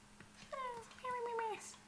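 A baby Sim in The Sims 4 coos in two short rising-and-falling chirps with a cat-like, meowing quality, close and clear over quiet game background.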